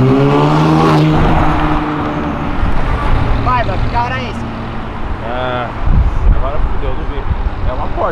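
A Porsche accelerates past on a city avenue, its engine rising and fading under close, loud voices talking over it.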